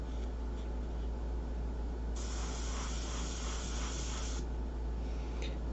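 An airbrush sprays paint onto a fine art portrait in a steady, close hiss over a constant low hum, with a brighter, stronger burst of spray through the middle before it eases back. No one talks.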